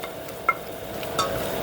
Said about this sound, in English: We don't want to burn it, but see it's still sizzling away.